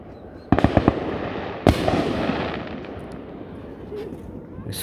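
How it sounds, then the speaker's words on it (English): Loud fireworks exploding in a quick cluster of sharp bangs, then another big blast, followed by crackling and a lingering rumble. "This firework thing is amazing."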